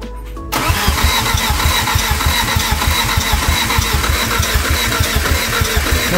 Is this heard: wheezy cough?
no